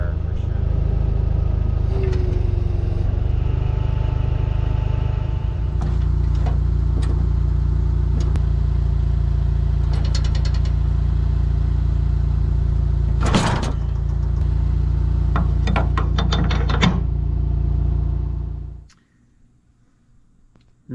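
A skid steer engine runs steadily close by, a low droning hum with a few clanks and knocks while it lifts a mower gearbox into place, then cuts off near the end.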